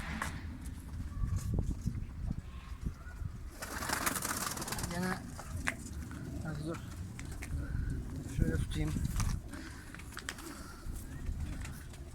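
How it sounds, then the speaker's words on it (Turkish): Konya naked pigeon, a female, cooing close by in a loft amid rustling and scuffling of birds, with a person talking throughout over the soft repeated coos. "Milletin Irak çıplağı dediği kuşlardan ama değil Irak çıplağı, Konya çıplağı."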